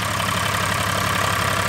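Shaktiman tractor engine running in a muddy field, a steady, loud, low diesel rumble heard up close with no pause.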